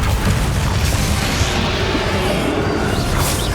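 A Confringo fire spell explodes in Hogwarts Legacy, a loud sustained roaring blast with rumbling low end and crackling debris that fills the whole moment without voices.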